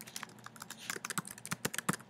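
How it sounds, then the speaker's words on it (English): Rapid irregular clatter of keys on a computer keyboard, clicks bunching into quick bursts with short pauses, close to the microphone and fairly quiet, no voices. "And start typing it."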